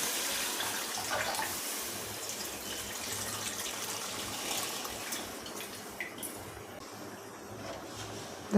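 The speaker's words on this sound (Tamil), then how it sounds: "இப்போ நம்ம இது கரைச்சி வச்ச புளி அதில் ஊற்றிடலாம்." Strained tamarind water pours into a pot of Sankara fish kuzhambu in a steady, close, gushing stream lasting several seconds.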